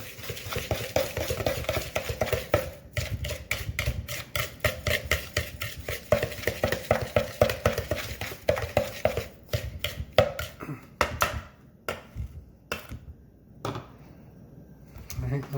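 A knife stirs and scrapes through cheesecake filling in a bowl for a cherry cheesecake, giving a rapid, steady run of clicking, scraping strokes that continues for about eleven seconds, then slows to scattered taps with pauses.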